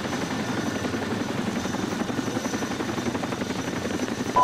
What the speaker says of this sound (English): Let's get on the helicopter.